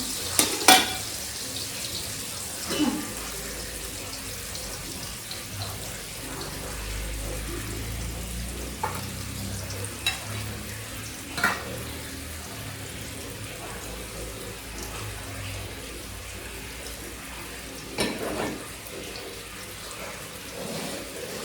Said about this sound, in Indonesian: Tan, suara gemericik ngeten iki Intan.